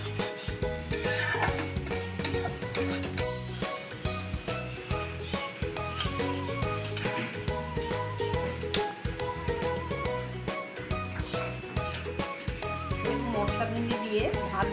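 Spiced okra (masala bhendi) being stirred in a pan over a high gas flame, with steady rasping scrapes of a utensil against the pan repeating in a fast rhythm, fairly close, with faint background music.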